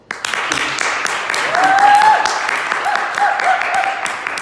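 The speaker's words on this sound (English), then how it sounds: "let's just give another round of applause for Messi" A seminar audience gives a round of applause, scattered claps building to a fuller burst midway and then thinning, with some voices and cheering mixed in.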